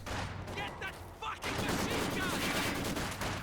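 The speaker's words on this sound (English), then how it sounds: "Trying to squeeze around the side of that machine gun" Machine gun fire rattles in the Company of Heroes video game, dense bursts of rapid shots with battlefield noise, loud and continuous after a brief lull, while a voice talks faintly underneath.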